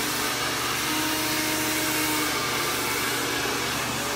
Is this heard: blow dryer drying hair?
yes